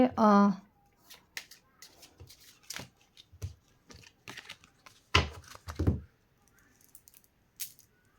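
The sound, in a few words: shuffling a deck of cards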